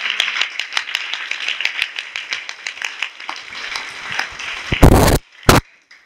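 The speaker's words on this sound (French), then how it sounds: "Applaudissez pour vous-même. Applaudissez." A church congregation claps in a brisk, uneven patter that fades as it goes on, ending in a couple of loud bursts of noise, with no voices heard.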